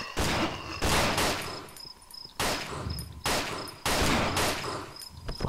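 Pistol shots in the horror game Cry of Fear fire in a loud, uneven run of about five sharp cracks with short gaps between them, close and alone with no talk.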